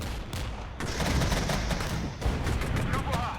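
Rocket and artillery fire in the war game Regiments, striking Leopard tanks, forms a dense, continuous roar of rapid blasts and booms across the whole stretch, loud and layered with brief lulls.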